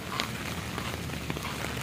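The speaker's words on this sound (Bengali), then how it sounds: "ঢাকা খুব ভয়াবহ বৃষ্টি হচ্ছে সেই সকাল থেকে" Heavy cyclone rain in Dhaka, a dense steady hiss of downpour striking surfaces, continuous and broadband throughout.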